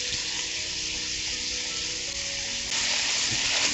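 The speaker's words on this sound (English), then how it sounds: "We want to saute everything together nicely" Sausage, onions and garlic sauté together in a pan with a steady close-up sizzle that swells a little louder toward the end, with no voices over it.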